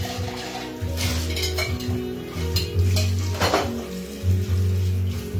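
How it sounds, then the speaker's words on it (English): Kitchen sink rinse of a container used for mixing Grasshopper and Irish Maid cocktails: steady running water with clinks of glass and dishware, close and fairly loud throughout. "we rinse this out again"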